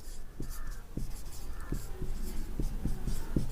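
Chalk or marker writing on a board during a maths lesson makes short tapping strokes and scratchy scrapes in an uneven rhythm, close and moderately quiet, with no speech.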